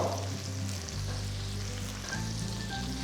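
Onions, slit green chilies and curry leaves frying in a pan for idli sambar make a steady close sizzle with a low hum underneath, and a faint crackle as the mixture settles.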